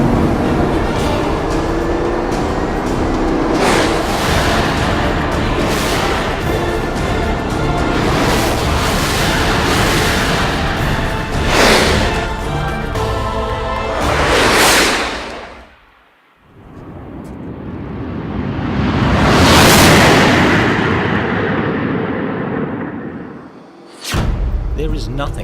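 A Bugatti Veyron Grand Sport accelerates hard on a banked test track, its engine roaring loudly and continuously with a brief dip before surging again, while someone talks over it.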